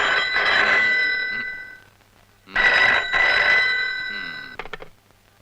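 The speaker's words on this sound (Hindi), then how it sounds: "मेरे बुन्नू का फोन है?" A telephone rings loudly in two long bursts of bright, trilling bell tones, each ring lasting about two seconds and separated by a short pause, in a scene from a Hindi movie.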